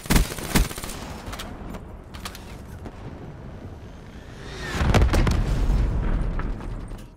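Rifle shots on a sniping map in Black Ops 3, several sharp cracks early on, then a louder rumbling burst of gunfire and explosions near the end, with scattered game effects between.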